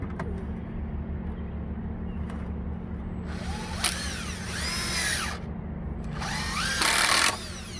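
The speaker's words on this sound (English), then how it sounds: "run 2 more screws in here" A power drill drives screws into a 2x4 for a boat outdrive stand. A steady low motor hum runs throughout, with rising whirring bursts as each screw is driven in, close and loud.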